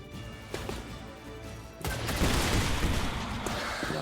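Missiles launch in a turn-based mech battle game: a few faint clicks and thuds, then a loud swelling rush of firing and impacts that keeps rumbling with scattered sharp cracks, close and without speech.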